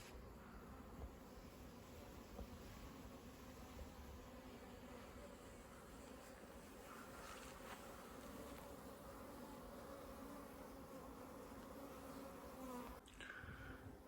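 Bees buzzing near an ancient stone church in Fife, a continuous low droning hum with insects moving close by, steady and fairly faint throughout, with no talking.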